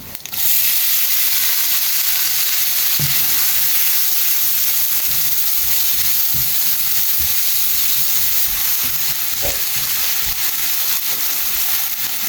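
Chopped onions and cumin seeds fry in hot oil with a loud, steady sizzle that holds for the whole stretch, with a few soft knocks of stirring under the hiss and no talking.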